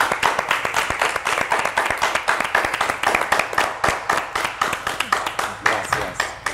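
Studio audience clapping after a television interview, close and rhythmic, with distinct individual hand claps repeating quickly and evenly, a small group rather than a large crowd, with some voices in the background.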